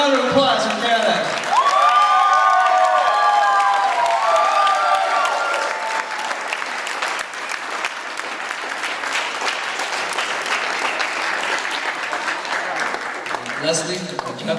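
Wedding guests applaud for Caroline with loud, sustained clapping and a few cheers, the crowd noise steady throughout as voices call out over it.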